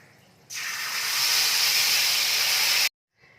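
Tomato, onion and yogurt paste hits hot oil for a Bengali katla fish korma, setting off a sudden loud hissing sizzle that holds steady for over two seconds and then cuts off abruptly, with no voices.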